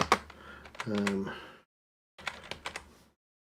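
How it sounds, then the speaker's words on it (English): Quick plastic clacks of typing on a computer keyboard during a Raspberry Pi setup, arriving in short bursts with a pause in the middle, mixed with a brief tonal sound. "what we need to do is to go to Google and type in tilt"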